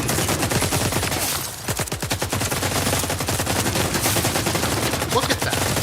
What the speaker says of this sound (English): I mean, look at how much they're shooting each other.